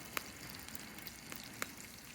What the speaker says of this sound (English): get that whole Spam frying